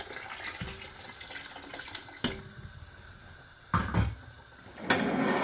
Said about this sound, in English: Then I'll be adding a bit more water.